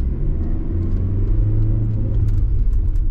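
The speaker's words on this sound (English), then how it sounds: "K-series pull off in first gear, it's got a lovely whiny noise that I really like." A Rover 25 1.4 with a K-series engine pulls off in first gear, giving a steady close-up engine drone and whine with low rumble that holds on through the whole stretch.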